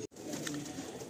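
Teddy pigeons in a loft give a soft, close coo with a brief break near the start, heard alone without voices.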